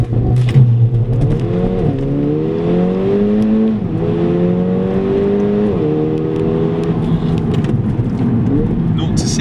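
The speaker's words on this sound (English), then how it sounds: "hold paddle up, left foot on the brake, right foot on the throttle, holds it to three and a half" A Mercedes-Benz A45 AMG accelerates hard under launch control, its engine note rising steeply through several quick gear changes, loud and close from inside the car, with a voice talking over it.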